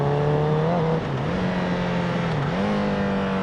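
Honda CBR1000RR motorcycle engine pulling away as the clutch is let out, loud and close, its pitch dipping and then climbing smoothly over a few seconds.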